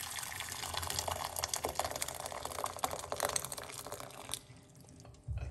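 Hot water poured into a medium-sized pot for banana peel tea: a steady, close splashing stream that continues for about four seconds, then cuts off into quiet.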